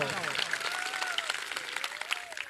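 Applause from a rally audience, a dense patter of clapping running steadily throughout, with a voice speaking over it.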